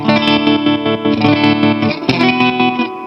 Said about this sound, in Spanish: Es como una especie de trémolo barra Rotary, ¿no?